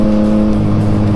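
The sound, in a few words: Yamaha MT-09 motorcycle engine with aftermarket full exhaust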